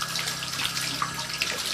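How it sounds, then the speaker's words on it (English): Water flowing through a sink P-trap held over a bathtub: a faint, steady splashing trickle of running water lasting the whole moment, alone without talk. "As you can see, the water's flowing pretty good."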